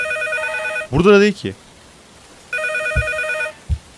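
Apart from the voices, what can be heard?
telephone ringing in a horror video game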